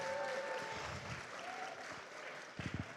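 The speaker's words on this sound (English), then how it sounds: "we want to give a big round of applause to Miss Tamika Swint." Audience applause at a fall gala rolls on at a moderate distance, a dense patter of many hands that thins slightly before a few sharper claps close it out.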